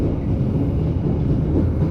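The Taksaka express train arriving at Linggapura station, Indonesia, gives a loud, steady low rumble from on board, with no break over the short span.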